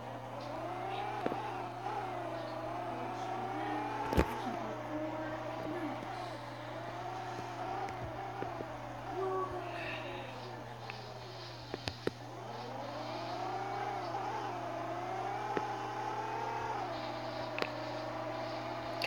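A truck engine drones steadily in a video game, rising and falling in pitch as it drives and accelerates, with a constant low hum and occasional clicks throughout.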